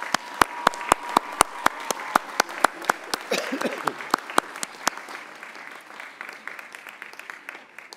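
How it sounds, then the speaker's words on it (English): Commencement audience applause at a college graduation ceremony: a strong run of loud, rhythmic claps close to the microphone stands out over the crowd at first, then the sharp claps thin out and the broader audience clapping fades to a softer, scattered wash. "Another round of applause."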